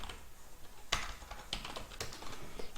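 Close, quiet typing of code on a computer keyboard, a scatter of light key clicks with a few sharper strikes, heard alone without talking.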